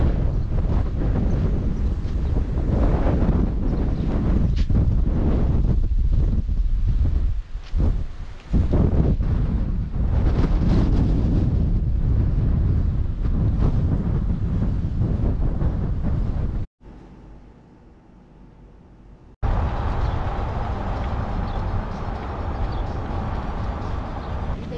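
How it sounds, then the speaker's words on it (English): Strong morning wind in Baja California, Mexico roars and gusts across the microphone for most of the clip, dropping briefly to a quieter lull before the loud buffeting returns. "Pretty windy this morning."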